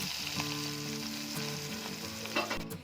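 Tadka of tempering spices sizzling in hot oil for kadhi pakora, a dense continuous crackling fry close by with a few stir clinks, no talking.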